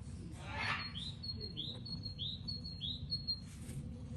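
Faint, repeated high chirps from a bird sound several times in a row over low outdoor background rumble, distant and quiet.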